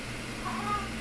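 A house cat gives a short, soft meow on a cloudy afternoon in the Embaré neighbourhood of Santos, faint against a steady background hiss, with no voices.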